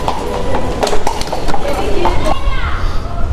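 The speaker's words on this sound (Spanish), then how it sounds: "Mira el caballito de nuevo." Hooves of a tourist carriage horse clip-clop at a steady walking rhythm on a street in Palma de Mallorca, close and fairly loud, with children's voices and someone speaking over the hoofbeats.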